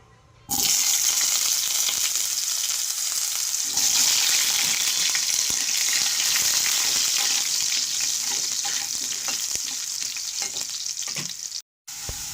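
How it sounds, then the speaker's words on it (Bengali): Potatoes frying in a small amount of hot oil for chicken curry, a loud, dense, steady sizzle running nearly unbroken after a quiet start, with a brief cut near the end and no speech. "আলুগুলো লাল লাল করে ভাজা হয়ে গেছে।"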